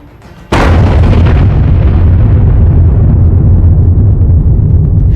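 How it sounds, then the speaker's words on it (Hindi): A sudden loud explosion goes off at a market in Azerbaijan: one sharp blast followed by a heavy, sustained rumbling roar that fades slowly. "अचानक एक धमाका होता है और बाजार के पिछले हिस्से की इमारतों से गुबार उठता है।"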